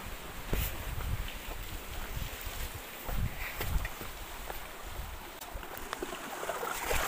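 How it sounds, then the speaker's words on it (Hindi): Leftover water flowing down into a gadhera, a small Himalayan mountain stream, a steady rushing wash with gusty wind noise across the whole stretch, no voices. "ये जा रहा है बचा हुआ पानी नीचे गधेरा नदी में"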